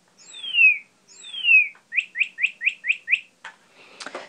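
A Fisher-Price Little People Songs & Sounds toy camper plays electronic birdsong: two long descending whistles, then a quick run of six short bright chirps and a few fainter trailing notes, clear against silence.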